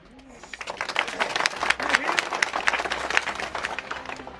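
A crowd at a political rally claps in a dense, scattered burst that swells and fades over several seconds, heard from nearby.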